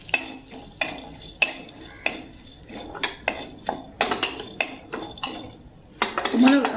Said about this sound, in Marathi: बदाम घालते या आणि हे भाजून घेते मंद गॅसवर